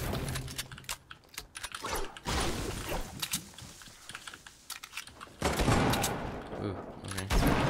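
Video game gunfire comes in sharp, rapid bursts mixed with clattering keyboard keys, loud clusters of shots separated by quieter gaps, with a player talking at times.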